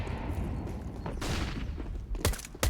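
Gunfire in a CS:GO esports match between Vitality and 9Z, a dense burst of shots followed by a couple of sharp, loud pistol cracks near the end.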